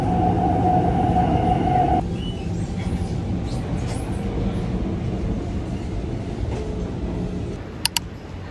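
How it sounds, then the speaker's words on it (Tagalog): A Singapore MRT subway train rumbles steadily while riding, with a high whining tone that drops away, faint squeals and a couple of sharp clicks near the end, loud and continuous, with no talking. "Nasa MRT na ako, guys."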